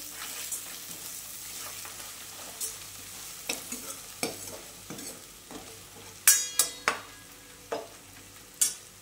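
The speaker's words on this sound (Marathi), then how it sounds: "तर आपण लसणाचं पेस्ट करून घेतलंय, तेही आता त्यात मिश्रित करूया। बघा आपला कांदा छान भाजला गेलेला आहे।" Onion and garlic paste fry in a pan under a soft, steady sizzle while a spatula scrapes and taps the metal repeatedly, the knocks growing sharper and louder toward the end.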